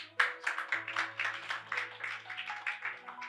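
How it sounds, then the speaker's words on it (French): Applause in a French-speaking church service: a congregation claps in a quick, steady rhythm, moderately loud and close, with a low hum beneath. "On peut applaudir pour ceux qui ont déjà vu les anges."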